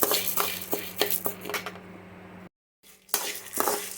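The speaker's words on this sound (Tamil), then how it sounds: "கடலைப்பருப்பு துவரம்பருப்பும் பொன்னிறமாக வறுபட்டுருச்சு" Chana dal and toor dal roasting in oil in a pan, with repeated scraping and clinking of a metal spoon against the pan over a low sizzle, a brief silent gap, then more stirring.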